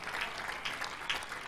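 Congregation clapping at a prayer meeting in Abuja, a steady wash of hands from a crowd, moderately quiet and continuous with slight swells, no clear talk on top.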